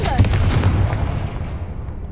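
A Confringo fire spell in Hogwarts Legacy bursts with a heavy, booming blast followed by a rumbling decay that fades over two seconds. A sharp crack opens it, with some faint clatter mixed into the tail.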